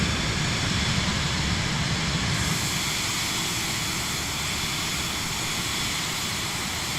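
Cirrus Vision Jet climbing out after takeoff from Ocean Reef Club in Microsoft Flight Simulator 2024, a steady loud jet engine roar with broadband hiss that holds evenly throughout, with no voices.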